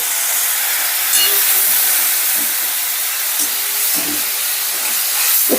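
Grated ginger sizzles in hot oil after a splash of water, a loud, steady hiss with faint crackles and spits scattered throughout.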